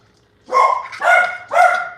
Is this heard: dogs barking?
yes